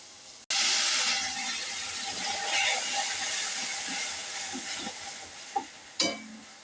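Water splashed into hot peanut chutney erupts in a loud, sudden hiss that holds steady for several seconds and slowly fades, with a couple of stirring knocks near the end.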